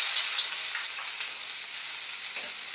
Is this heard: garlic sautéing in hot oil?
yes